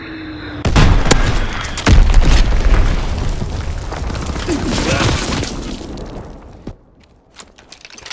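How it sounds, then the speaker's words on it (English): Azon bomb dropping and exploding in the WW2 shooter game Call of Duty WW2, with two heavy booms followed by a long rumbling roar of battle that fades out near the end, with a few sharp pops and voices mixed in. "Dropping Azon bomb."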